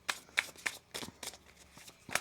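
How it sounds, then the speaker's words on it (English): Tarot cards being shuffled by hand, a run of quick papery riffles and flicks in irregular bursts, close and fairly quiet, with no voice over them. "One more shuffle."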